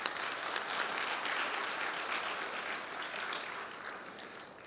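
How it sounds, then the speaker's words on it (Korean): A church audience at an elders' association lecture in Seoul applauds an invited guest speaker, a dense, steady wash of many clapping hands that holds for several seconds and slowly tapers. "뜨거운 박수로 맞이해 주시기를 바랍니다."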